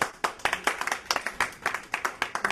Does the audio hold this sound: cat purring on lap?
no